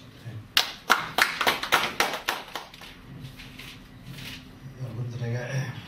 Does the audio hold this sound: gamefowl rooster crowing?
no